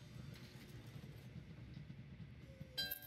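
Trains in the Train Valley 2 game rumble along with a faint, steady low rolling drone, topped near the end by a brief bright chime-like tone.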